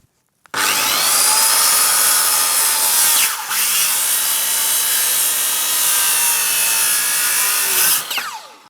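A power saw, likely a circular saw, rips through wood while a Nanking spokeshave is shaped, running loud and steady for about seven seconds with a brief dip midway before spinning down, no speech.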